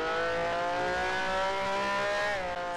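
Race car engine in the Grand Prix Legends racing game holds a loud, steady high rev with dense harmonic whine, pitch shifting slightly near the end, continuous and close throughout with no talk.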